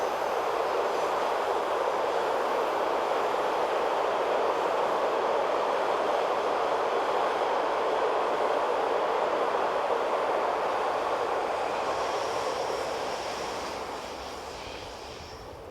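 A train runs along the south ramp line toward Brig, a steady broad rumble of wheels and carriage noise that holds loud for most of the stretch and then begins to ease off near the end, with no voices.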